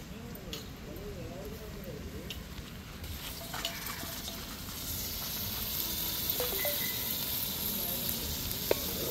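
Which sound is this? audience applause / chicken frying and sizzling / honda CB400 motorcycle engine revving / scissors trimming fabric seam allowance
chicken frying and sizzling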